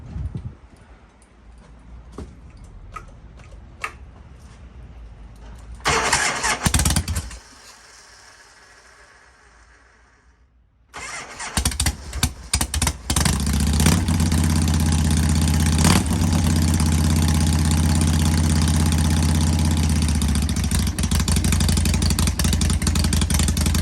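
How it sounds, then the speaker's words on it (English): A Harley-Davidson Shovelhead motorcycle engine fires up after a few cranking attempts and a brief quiet gap, then settles into a loud, close, loping idle that thumps steadily for the rest of the recording. "Sound of a shovel head."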